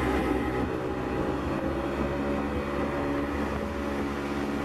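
A Yamaha C3 scooter engine fitted with DR pulley sliders, run at full throttle on a trip to the grocery store, giving a loud, steady droning whine that stays constant throughout.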